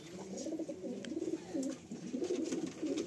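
Pigeons of a bloodline strain coo steadily in a loft, with a close, continuous chorus of low, rolling calls overlapping throughout.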